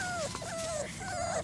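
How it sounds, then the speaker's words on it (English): Puppies on a first outing whimpering close up, long drawn-out high whines rising and falling in pitch, one after another with barely a pause. "Good puppies."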